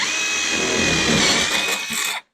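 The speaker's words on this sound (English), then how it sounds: "Now you do need to pre-drill a 1/2 inch hole for this one." A power drill whines continuously at close range, its pitch grinding as it bores a 1/2 inch hole into a wall, then cuts off abruptly near the end.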